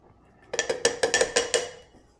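Two cans of mild Rotel tipped into a chili pot, giving a quick run of about six bright metallic clinks and clatters close up, clustered within a second and a half, with no talk.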